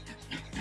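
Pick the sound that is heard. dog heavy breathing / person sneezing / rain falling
dog heavy breathing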